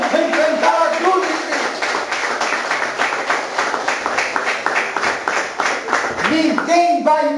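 A church congregation claps hands in a steady, quick rhythm, sharp repeated claps running throughout while a voice speaks or sings over them.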